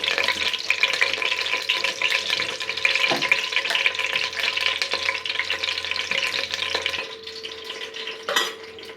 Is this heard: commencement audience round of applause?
no